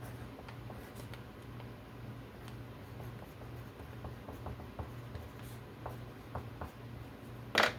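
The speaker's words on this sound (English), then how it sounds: "let me write something down" A pen or pencil writes on paper with faint scratching strokes in an irregular rhythm over a low background hum, ending in a brief louder scrape, with no talking.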